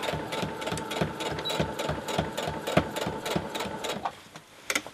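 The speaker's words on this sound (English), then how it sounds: "And now I'm going to continue stitching." Sewing machine running in quick, steady bursts while stitching across a denim jeans pocket, a close, continuous mechanical whir with rapid needle clatter that slows and stops near the end.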